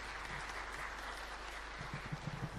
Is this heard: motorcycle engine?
no